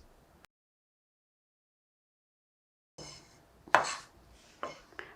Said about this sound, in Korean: 청양고추도 다져줄 거예요.